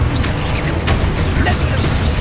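Confringo fire spell blasting in the video game Hogwarts Legacy, a dense rumbling explosion with crackling bursts and booms layered over heavy low-end noise during combat.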